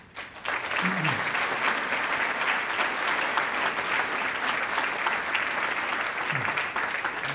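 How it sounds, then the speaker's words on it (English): Dinner guests at a celebration break into sustained applause, a dense, loud wash of clapping from a full room that holds steady for several seconds with a faint murmur of voices beneath. "and we applaud you in it"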